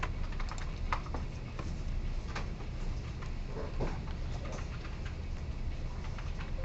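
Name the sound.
typing on a computer keyboard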